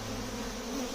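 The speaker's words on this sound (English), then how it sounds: "you see a lot of these bigger bees in there. Those are the males, the drones. They're coming in and out too" Honeybees and larger drone bees crowd a busy beehive entrance, producing a dense, steady, close-up droning buzz with no voices.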